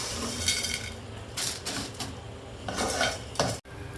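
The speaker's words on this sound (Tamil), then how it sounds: "இந்த பருப்பை வந்து ஒரு பிளேட்டில் நம்ம மாற்றி எடுத்து வச்சுக்கலாம்" Roasted lentils being moved from a pan onto a plate, with repeated metal scraping and clinking of a utensil against the cookware in short bursts over a faint background hiss.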